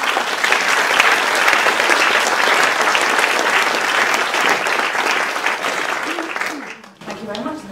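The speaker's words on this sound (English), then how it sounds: "I think that's the biggest round of applause I've ever had." Loud, dense applause fills a lecture room as an audience welcomes a speaker to a lunchtime talk on place-names, sustained for several seconds before tapering off as a voice begins speaking.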